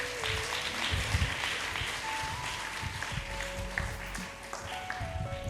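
Congregation at a Hindi-language church sermon breaking into scattered clapping, a loose uneven patter of hands filling the room at moderate loudness.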